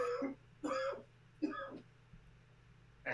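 Three rough, close coughs or throat-clearing bursts come in quick succession, with a pause before a fourth starts.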